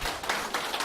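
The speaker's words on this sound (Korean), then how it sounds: "박수 한번 쳐주시죠." A short burst of clapping from a seated class, a few pairs of hands patting together in quick uneven bursts, close and moderately loud, honoring the instructors and teaching assistants at a smartphone photography lesson.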